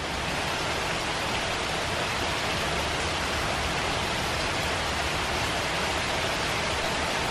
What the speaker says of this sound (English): We're just getting the rain.